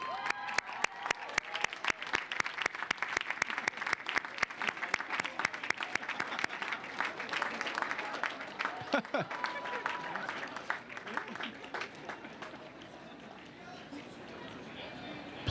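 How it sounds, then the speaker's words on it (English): Graduates at a 2018 commencement rise and clap for their supporters, distinct sharp claps at first thickening into steady applause that gradually thins toward the end, with some voices in the crowd. "Graduates, please rise and give a round of applause to the people who are supporting you"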